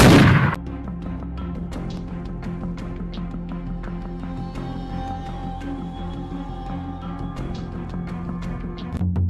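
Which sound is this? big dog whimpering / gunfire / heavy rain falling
gunfire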